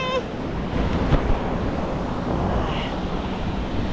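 Sea waves wash steadily onto a beach on Phuket island in Thailand, a broad near rushing surf blended with wind buffeting the microphone.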